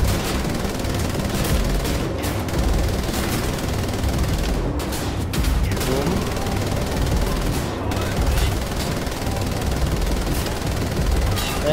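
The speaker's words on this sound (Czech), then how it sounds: "Nevím, co to po nás střílí, ale je to těžce ozbrojeno." Heavy gunfire in the Wolfenstein: The Old Blood video game, sustained automatic bursts and sharp shots crackling continuously with loud impacts, and no talk over it.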